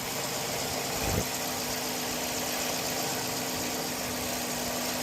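A Dodge Charger 5.7L V8 runs steadily at idle after a spark plug replacement, a close, even engine hum with a brief bump near the start and no talking.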